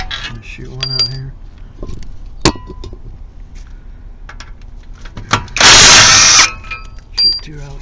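Impact wrench removing 15mm bolts while taking out a power steering pump on a Chevy Traverse: one loud, sharp rattling burst of about a second, set among metallic clinks and handling noises, with a voice at times.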